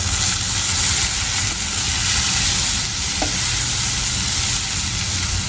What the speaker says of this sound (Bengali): কাঁচা মরিচ বেসন পেঁয়াজ দিয়ে মরিচ চিংড়ি দিলাম